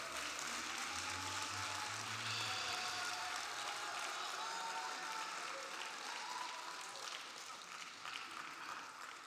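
A church congregation applauds first-time visitors, a steady, fairly distant wash of many hands clapping that holds throughout and tapers slightly toward the end.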